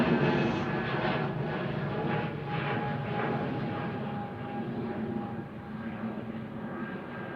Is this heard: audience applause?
no